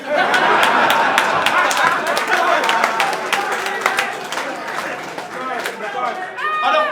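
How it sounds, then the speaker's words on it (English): A battle rap audience at a Don't Flop event cheers and claps in a dense, steady roar of crowd noise, with chatter and whoops running throughout. "I don't care how much they cheer for it here either"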